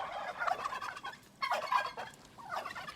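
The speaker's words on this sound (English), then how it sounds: "The gobble is from the tom." A male turkey gobbles in two or three rattling bursts at moderate distance, each a rapid warbling call, with a short pause between them and low background noise.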